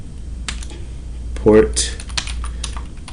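Keystrokes tapped on a computer keyboard while configuring port security on a Cisco switch, a steady run of light clicks close by, interrupted midway by a brief spoken word.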